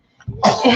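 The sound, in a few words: sneeze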